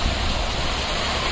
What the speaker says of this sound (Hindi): पानी बहुत तेज, बहुत ही ज्यादा तेज बारिश हो रही है।